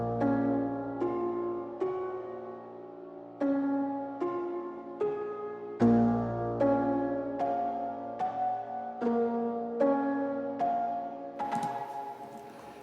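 The same slow piano phrase comes back brighter and more punchy, its struck notes and low chords thickened by EQ, reverb and distortion, ending in a short burst of noise.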